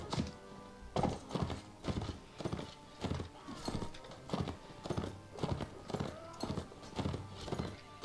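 Rhythmic hoofbeats of horses in the medieval combat game Mount and Blade Warband, a fast steady clip-clop with galloping thuds and a whinny mixed in, fairly close, with faint voices underneath.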